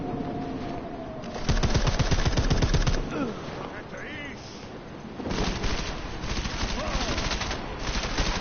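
Rapid automatic gunfire from a weapon in Deus Ex, two loud sustained bursts separated by a quieter gap with faint background sounds.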